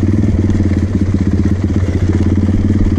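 A Honda TRX450 ATV engine runs steadily on a desert trail, a loud, close, throbbing single-cylinder putter with a fast even pulse and rattly exhaust crackle throughout.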